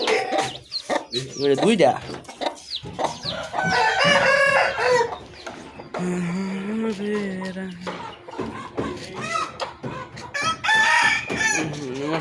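Chickens cluck and a rooster crows repeatedly on a farm, the calls close and loud, mixed with people talking throughout.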